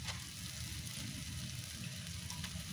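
Boiled chow mein noodles hiss and sizzle steadily in a hot pan, a continuous close frying crackle with no talking.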